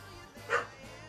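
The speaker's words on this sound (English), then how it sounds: "Doggos!" A dog gives one short, fairly faint bark partway through, standing out briefly over a steady low indoor background.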